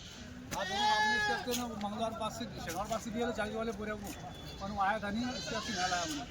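Goats bleat repeatedly in wavering cries, close and loud, at a goat market in Dhule, with people talking in the background throughout.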